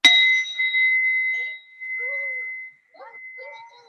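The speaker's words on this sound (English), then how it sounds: "Let's start off with our symbolic singing bowl sound" Someone strikes a singing bowl once, giving a bright, sustained, pure ring that hangs for nearly three seconds before fading. Faint, brief background sounds overlap as it dies away.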